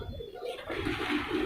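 Pigeons cooing, soft low throaty coos in a brief close passage with a little background hiss and no speech.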